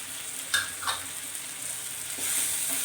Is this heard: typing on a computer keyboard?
no